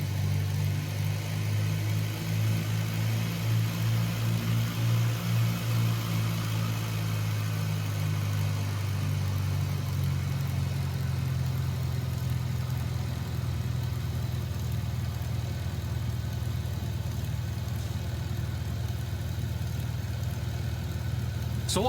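A Carenado Piper Archer II piston engine in a flight simulator, taxiing on grass. It makes a steady, loud, low droning hum that deepens and thickens partway through as throttle is added, then holds without a break.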